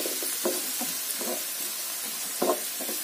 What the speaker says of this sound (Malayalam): ഇതൊന്ന് ജസ്റ്റ് ഒന്നിങ്ങനെ വഴറ്റിയതിന് ശേഷം